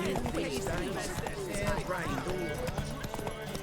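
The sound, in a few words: horse hooves cantering in The Witcher 3 video game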